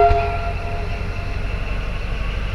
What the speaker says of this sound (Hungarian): Közben a vonat elindul,